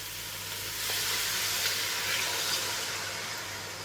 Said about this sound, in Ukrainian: обсмажуємо, даємо обсмажитися буквально 1-2 хвилини